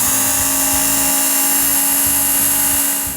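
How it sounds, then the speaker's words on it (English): A Work Sharp belt sharpener runs against a Schrade knife, giving a continuous high-pitched motor whine with a steady hum and faint rhythmic pulsing, close and loud without voices. "The narrow flexible belt will wrap right into this curve and sharpen a"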